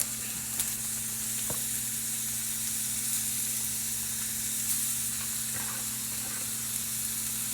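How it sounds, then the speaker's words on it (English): Two pounds of hamburger meat and Italian sausage sizzle in a pan with a steady, even hiss and a few faint clicks of stirring, heard alone at close range. "So this is 2 pounds of hamburger meat and some Italian sausage. Get that all mixed up."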